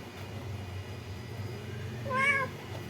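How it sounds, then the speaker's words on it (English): A cat lets out a single short, close meow while sniffing another cat that is being held, with a quiet room hum before it. "This is how Elise smells Doro cat when I'm holding him"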